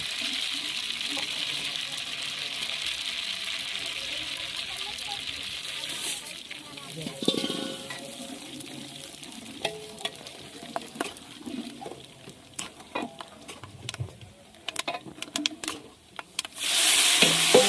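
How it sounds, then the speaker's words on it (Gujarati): Hot oil sizzles and crackles steadily as mustard seeds and whole spices temper for dal, with scattered pops and a few stirring clinks, then a louder burst of hissing near the end; a voice talks faintly underneath. "દાળનો વઘાર થાય છે, રાઈ અને હવે બધા મસાલો કે આખો મસાલો"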